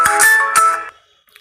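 A mobile phone ringtone rings out loud and clear in two melodic bursts, then cuts off, leaving near silence.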